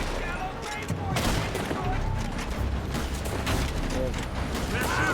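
Gunfire from a Red Dead Redemption 2 shootout crackles in rapid, overlapping bursts from several weapons, mixed with distant echoes and voices.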